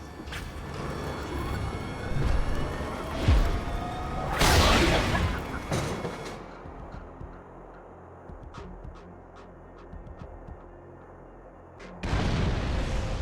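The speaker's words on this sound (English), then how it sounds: "Please fire the cannon again." A cannon fires in the Borderlands video game, with heavy booming blasts and crashing impacts in separate bursts over steady in-game background noise.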